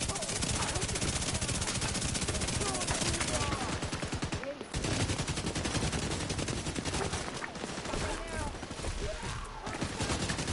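Dense, continuous automatic gunfire from The Division 2, rapid overlapping shots crackling steadily at close range with brief lulls, while a player talks over the shooting.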